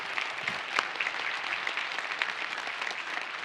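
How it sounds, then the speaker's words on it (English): At a security conference's closing ceremony, a crowd gives a round of applause, a moderate, even spread of clapping from many hands heard at some distance and sustained throughout. "A round of applause for you."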